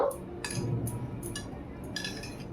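A spoon stirs raw prawns with lemon juice in a bowl, producing light clinks and scrapes against the bowl over a low background hum, faint and close.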